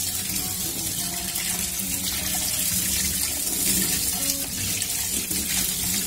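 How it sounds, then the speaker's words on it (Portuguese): Fern sprouts are washed under a kitchen tap, with a steady, continuous stream of running water splashing into the sink, close and unbroken throughout. "Você lava ela duas vezes, antes de cozinhar e depois de cozinhar."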